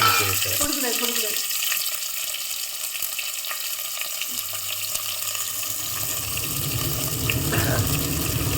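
A kitchen chimney exhaust hood runs while sambar rice cooks, giving a steady, loud broadband whoosh through the whole stretch with faint sizzling and low clatter beneath.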